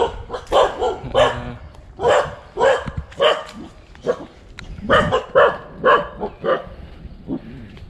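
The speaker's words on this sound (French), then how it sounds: "il n'y a pas de singe, mais il y a une putain de meute de chiens" A pack of dogs on a hot mountain barks repeatedly in an irregular, overlapping run of sharp barks and yips, some near and some farther off, with no talking.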